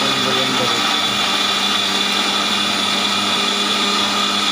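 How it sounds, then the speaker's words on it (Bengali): An electric blender whirs steadily as it blends mango and milk, a constant loud motor drone running the whole time with no break. "এই যে ব্লেন্ডার একটু দেখুন"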